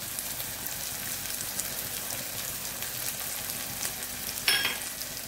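Chopped onion and green chilli sauté in a pan with curry leaves for egg poriyal, giving a soft, steady sizzle throughout with one brief louder clink or stir near the end.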